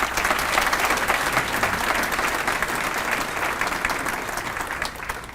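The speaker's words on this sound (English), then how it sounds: "maybe give them a round of applause" Loud, dense applause fills a banquet hall at a township Pay It Forward event, many hands clapping steadily for several seconds and easing slightly toward the end.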